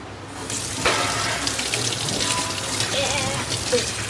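A kitchen tap runs in a steady, close hiss of flowing water throughout, with faint clinks of washing and no clear talking.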